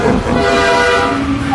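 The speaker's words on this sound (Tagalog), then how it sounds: "Mababaliw tayo sa busina na yan!" A train horn sounds in a horror video game featuring monster vehicles such as Choo Choo Charles and Thomas.exe, loud and sustained as one long blaring toot with a harmonic tone.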